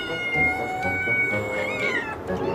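Several hungry cats yowl in a long-meow contest, drawn-out overlapping meows with wavering pitch, loud and close, sustained across the whole stretch.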